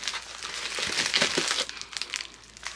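Crinkling and crumpling of bubble wrap around a packaged sewing notebook being handled, with irregular close-up crackles and rustles that rise and fall across the clip.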